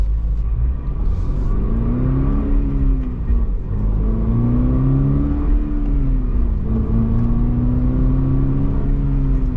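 A 2025 Subaru BRZ Premium pulls away from a stop, its engine revving up through several gear shifts with rising and dropping tones, loud and close from inside the car, with no talking.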